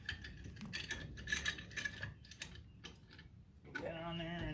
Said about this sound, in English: you start turning it, and you'll find it gives you resistance